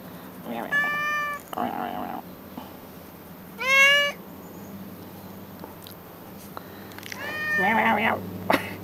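A cat meows several times, close and clear, in a string of drawn-out calls spread across the stretch, with quiet outdoor background between them.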